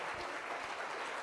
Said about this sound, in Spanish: ¿Cuánto le damos un aplauso fuerte al Señor?